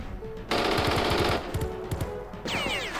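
Machine gun fire in the video game Jagged Alliance 2, a loud sustained burst of rapid rounds followed by a shorter burst and a ringing, swooping tail.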